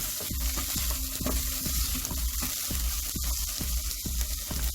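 Green peppers frying in a pan: a continuous close sizzle with repeated scraping and stirring knocks in a steady rhythm.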